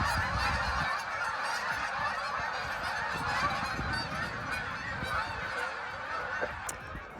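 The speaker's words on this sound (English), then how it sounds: "those are birds" Many geese honk together in a thick, ongoing chorus overhead, calls overlapping at moderate volume.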